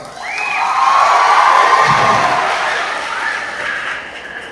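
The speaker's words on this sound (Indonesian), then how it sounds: "Beri tepuk tangan buat mereka." An audience cheering and applauding for children leaving the stage at a school talk, a broad crowd roar with shouts and whoops that swells and then slowly fades, loud and fairly near.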